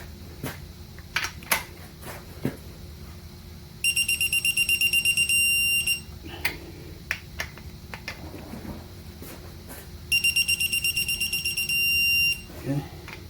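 A digital torque wrench beeping while tightening crankshaft bolts on a 7.3 engine build, two bursts of rapid, accelerating high-pitched beeps, with scattered clicks and clanks of tools between them.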